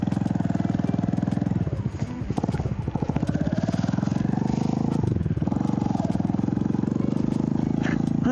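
A motorcycle rides along Cotswolds country roads in December, its engine droning steadily close to the microphone with wind rush, shifting pitch as it accelerates.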